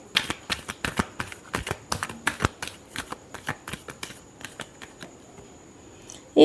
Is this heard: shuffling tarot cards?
yes